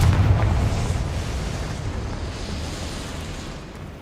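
A Confringo fire spell explodes in Hogwarts Legacy, a loud booming blast up front that trails off into a rumbling, fading decay over several seconds.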